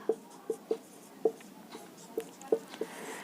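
Chalk or pen tapping and scratching out a line of math on a board during a Class 10 lesson, a series of short, distinct strokes in an irregular rhythm, close and fairly quiet, with no talking.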